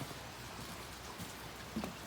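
Steady outdoor rain falls under an overcast sky with flooding nearby, a continuous close hiss of drops on surfaces with a brief clatter near the end and no talking.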